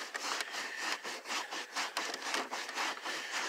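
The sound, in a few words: rubbing car carpet with microfiber cloth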